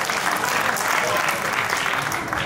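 An audience at a Hindi poetry gathering organised by a journalists' council gives a dense, loud, continuous round of applause that fills the whole stretch without pause.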